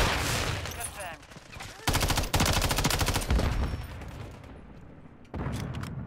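MTZ-556 rifle firing in Modern Warfare 3: several loud automatic bursts of rapid shots, separated by quieter gaps, close and dominant, with no voices.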